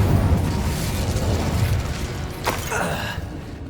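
Incendio fire spell cast in Hogwarts Legacy, a low rumbling whoosh of flame swelling and fading, with a sharp burst partway through, steady and fairly loud throughout.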